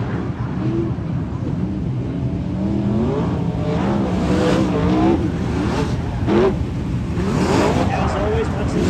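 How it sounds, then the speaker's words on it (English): A 360 sprint race car accelerates at Placerville Speedway, its loud engine roaring and revving continuously with rising and falling pitch, while a voice talks over the noise. "Tony Gomes looks like he is going to rejoin the field. Here he comes down the ramp at turn four"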